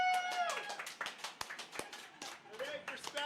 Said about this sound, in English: So let's give a round of applause for me spelling it right.